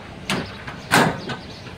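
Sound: Chevrolet C3500 truck door being opened and closed

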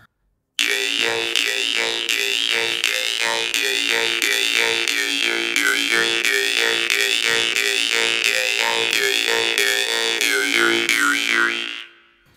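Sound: jaw harp playing ancient melody technique

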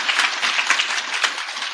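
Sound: loud applause from audience

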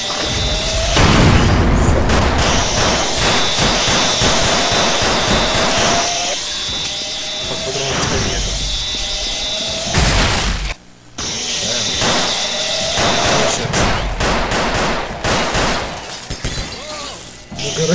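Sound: gunfire from a crowbar weapon in video game Grezzo 3

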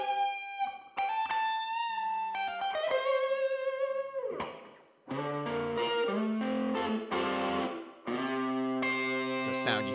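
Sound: distorted electric guitar with hallway reverb

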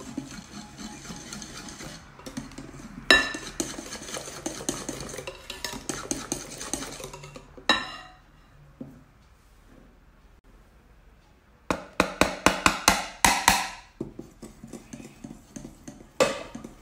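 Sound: stirring brownie batter while adding flour, cocoa and yeast

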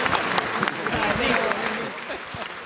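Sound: applause

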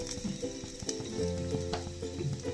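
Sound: frying in a pan for varutherissery

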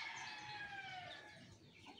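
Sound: Rhode Island chickens

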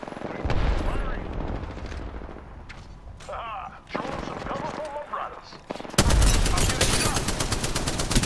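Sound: gunfire in Apex Legends video game

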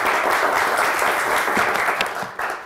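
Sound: studio audience applause on a game show

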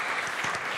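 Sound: audience applause for a jive dance

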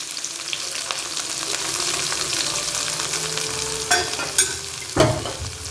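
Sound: garlic and chopped onions frying in a pan

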